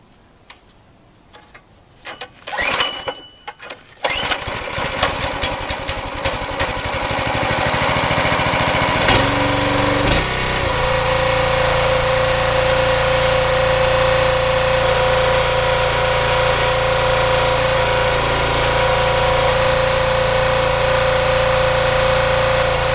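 The small engine of an old Craftsman/Duerr/MTD wood splitter is pull-started with a few sputtering tries, then catches and runs steadily at a loud, even idle close by.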